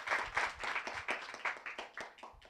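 An audience at a panel discussion at the g0v Summit 2018 gives a short, faint round of scattered hand clapping for a speaker named Ethan, heard from a distance.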